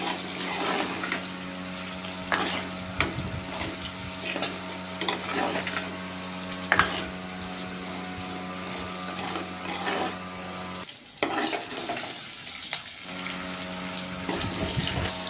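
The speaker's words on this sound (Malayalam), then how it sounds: "മഞ്ഞൾപ്പൊടി ഇട്ട് കൊടുത്തിട്ട് മഞ്ഞൾപ്പൊടി നന്നായിട്ട് ചൂടായി വഴറ്റി നമ്മളിതിൽ നിന്ന് എടുക്കുകയാണ്" Turmeric powder sautéing in a hot pan as the first step of a green chilli and onion pickle, giving a steady low frying hiss with light stirring scrapes throughout, fairly close and with no voices.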